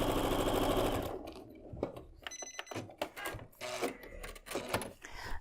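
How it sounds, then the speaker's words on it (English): A sewing machine runs steadily at first while stitching a quilt block, then stops and restarts in short stuttering bursts with clicks and thread handling. "sew down all the way to the end"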